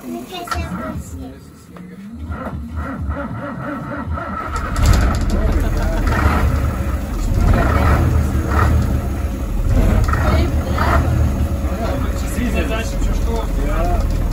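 A bus engine turns over and settles into a steady, loud idle, its low rumble continuing throughout with people chatting in the background.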